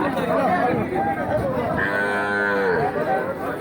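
A cow moos in a long, drawn-out call midway through, amid a busy cattle market where calves are being sold, with people talking throughout.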